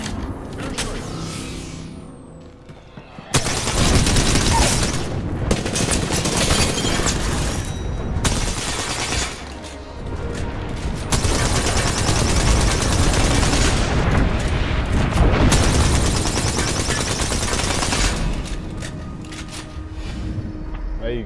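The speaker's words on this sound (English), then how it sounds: "Signaling an airstrike." An airstrike in Apex Legends: after a brief quieter lead-in, dense, loud rounds of gunfire and booming explosions roll on for most of the stretch, with short lulls and some talking over the din.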